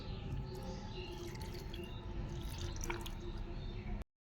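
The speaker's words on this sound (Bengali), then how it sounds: "এবার খুবই অল্প পরিমাণে জল দিয়ে দিচ্ছি।" Small amount of water poured into a pan of Bankura-style spicy cabbage with green chilies, a soft continuous trickle and splash that ends abruptly.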